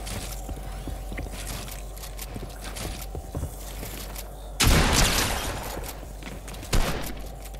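Scattered video game gunshots crack irregularly over a busy mechanical background, with one heavy, louder blast midway whose roar lingers, then another sharp shot near the end.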